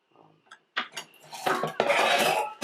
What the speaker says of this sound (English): getting dishes washed.